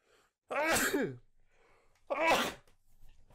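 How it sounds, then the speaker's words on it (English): Two loud sneezes right next to the microphone, about a second and a half apart, each a sharp burst followed by a breathy trail, with faint murmuring between them during a card game. "Sorry if I sneezed around the microphone."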